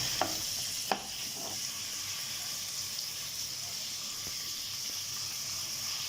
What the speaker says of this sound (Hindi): इस तरीके से इसको अच्छे से हम फ्राई करेंगे चिकन को।